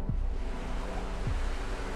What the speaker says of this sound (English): waves are especially strong when they break on the tripod.